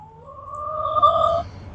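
Backyard chickens on a small ranch give a short, fairly close run of clucking and vocalizing calls, rising toward the middle, with no talking.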